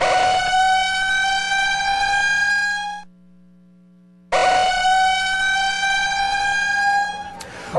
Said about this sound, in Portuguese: essa é a sirene que avisa que o momento de sair de casa chegou